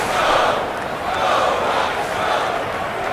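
A basketball arena crowd in a simulated game at the Garden roars in a broad, steady wash, swelling in waves as the hometown fans get louder, with no single voice standing out.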